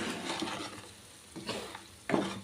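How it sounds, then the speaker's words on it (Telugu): Gongura pickle stirred through hot oil in a pan over a slow flame, giving soft scraping strokes and a faint sizzle, with a louder scrape near the end and no talk. "ఇలా చక్కగా పచ్చడి అంతా కూడా ఆయిల్లో ఇలా ఈవెన్గా కలిసేలాగా"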